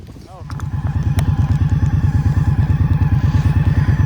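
Indian Scout Bobber Sixty motorcycle riding along, its V-twin engine thumping in a steady, loud, pulsing rhythm close by, with a faint voice at the start.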